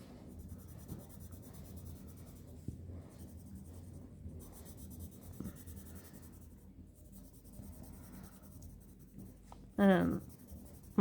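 Albrecht Dürer watercolor pencils scratch steadily across paper while coloring waves, a continuous soft scribbling close up with a few light taps, ending in a brief louder rustle.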